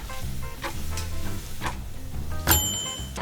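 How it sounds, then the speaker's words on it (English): Onion sweats in olive oil in a pan, a soft sizzle under a few stirring scrapes and clinks from a spoon against the pan, with one sharper metallic knock near the end. "then we will sweat the onion for 6 to 7 minutes until tender and translucent"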